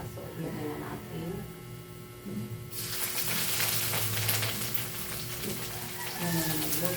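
Four pieces of bitter gourd (ampalaya) hit a hot pan and set off a sudden loud sizzle that keeps going steadily, while someone talks before and during the frying.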